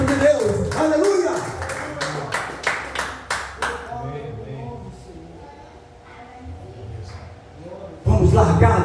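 A church congregation claps and applauds during a worship service, a run of sharp hand claps in the first few seconds fading into murmuring voices and singing, with a louder burst returning near the end.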